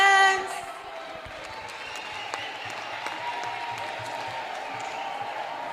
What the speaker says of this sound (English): Let's clap the hands.